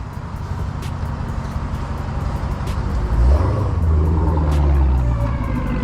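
A Dodge Hellcat passes on a Los Angeles street, its rumbling engine rising into a loud, deep roar as it closes in and goes by.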